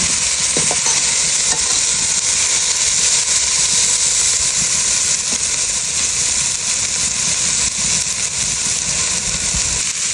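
Shallots and curry leaves fry in a pan with a loud, steady sizzle, broadband crackling hiss continuing throughout with occasional faint stirring, and no talk.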